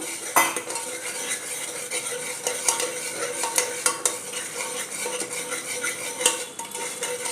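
Masala spices with turmeric sizzle in hot oil for chole while a metal spoon stirs and clinks against the pan, giving sharp scrapes and taps over a steady frying hiss, close by.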